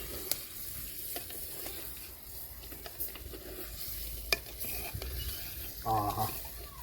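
Chilli chicken curry with coriander is stirred in a clay pot, giving soft scraping and a quiet sizzle with a few spoon taps, close and faint.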